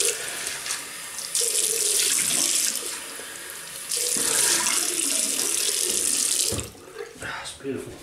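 Tap water runs steadily into a sink as someone rinses off after a wet shave with a safety razor, the flow loud and continuous with brief dips and splashes near the end.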